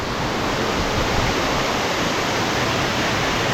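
Water of Lovers Leap waterfall near Nuwara Eliya rushes over rocks in a loud, steady, close roar that fills the whole stretch without pause.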